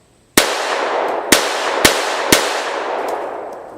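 A handgun fires four loud, close shots in a quick drawing drill, each a sharp crack followed by a ringing decay, with uneven gaps between them and no talking.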